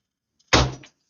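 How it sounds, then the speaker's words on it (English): A door swings shut with a single solid thud, close and loud, after a moment of quiet, with a brief rattle as it settles. "I'm going to count to three, and then I'm closing the door"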